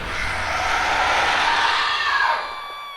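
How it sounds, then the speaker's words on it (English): Shrill, sustained screaming rises and holds for a couple of seconds, then tapers off near the end, with a faint crowd-like wash behind it. "The cries turned to screams of absolute agony"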